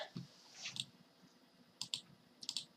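Several sharp mouse clicks on a computer, a quick pair early on, then two more pairs of crisp clicks spaced apart, close and fairly quiet against a faint background hiss.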